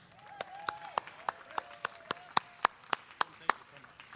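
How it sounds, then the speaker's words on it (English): Sparse, distinct claps ring out for Rick Thompson at a festival celebrating sacred plants and fungi in Michigan, about a dozen separate claps at fairly even spacing, with someone talking faintly underneath. "please give a big round of applause for Rick Thompson"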